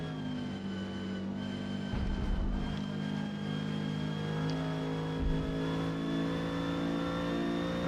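A Renault 8 Gordini races in Forza Motorsport, its mid-pitched engine holding a steady, strained drone with a few shifts in tone, loud and continuous with no talk.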